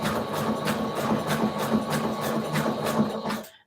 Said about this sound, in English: This is my friend's sewing machine that I borrowed, and it works, but it makes some crazy noises.